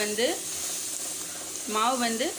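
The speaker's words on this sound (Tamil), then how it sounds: "பால் ஆட் பண்ணி நல்லா கலந்து விடுங்க" Besan laddu dough in a pan on low flame sizzling softly as warm milk is stirred in, a steady close hiss with brief vocal sounds at the start and end.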